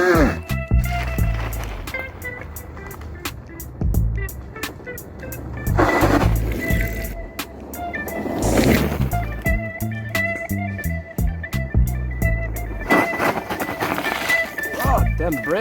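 Riding a 3000-watt CyklonEbike Viper V2 Monster+ electric bike, with road rumble, wind and clattering bumps rising and falling close by, while a voice talks over the ride.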